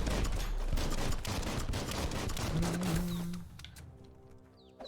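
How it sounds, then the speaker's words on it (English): Rapid bursts of gunfire from shooting enemies in the action game Biomutant, a dense volley of shots for a few seconds that thins out and fades to quiet. "Just me shooting a bunch."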